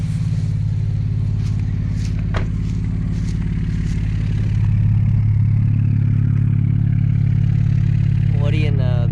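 An Infiniti Q50 with blown turbos idling, a loud steady low engine drone with a slight uneven clatter throughout, with faint speech-like sounds at moments.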